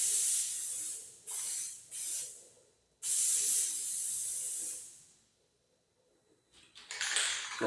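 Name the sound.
spraying matte clear coat paint from spray can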